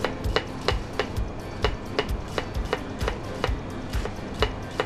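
Steady knife strokes thinly slicing cabbage on a cutting board, about two or three per second, crisp thuds with slicing swishes, close up and fairly even in rhythm.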